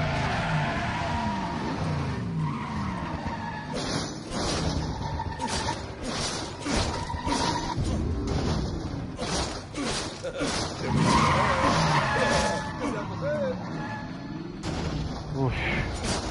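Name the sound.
Mr. Baker's car skidding in video game Resident Evil 7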